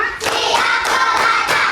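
A school class performs a rhythmic clap routine in the classroom, about five sharp group claps at an even, brisk pace, loud and close.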